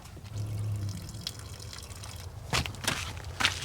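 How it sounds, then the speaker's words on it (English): Rattlesnake meat is rinsed under a running tap in a sink, a close, steady trickle of water with splashing and dripping bursts near the end. "get it cleaned off, rinsed out in the sink"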